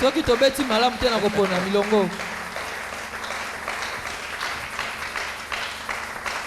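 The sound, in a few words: church congregation applauding and acclaiming the Lord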